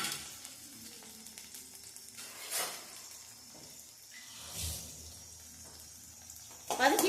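Shallots, garlic and green chili sauté in a pan, giving a quiet, steady sizzle with a few soft stirring swishes and a louder clatter at the very end.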